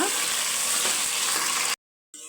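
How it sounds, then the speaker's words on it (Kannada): A tomato is added to softened onions and fries in a pan with a loud, constant close sizzle, broken by a brief stir. The sizzle cuts out sharply and then resumes faintly. "ಒಂದು ಟೊಮೊಟೊನ ಹಾಕೊಳ್ತಾ ಇದ್ದೀನಿ ಇದನ್ನು ಚೆನ್ನಾಗಿ ಫ್ರೈ ಮಾಡ್ಕೊಳ್ಳೋಣ"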